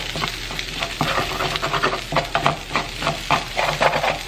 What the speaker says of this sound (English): I'm gonna add a little bit of water and cover them, and I'm gonna turn it down to medium heat